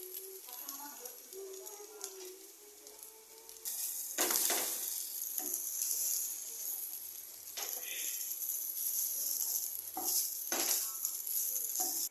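Vegetable fried rice sizzling in a hot pan as it is stirred, a close, steady hiss broken by several louder scraping bursts of the spatula, with faint voices early on.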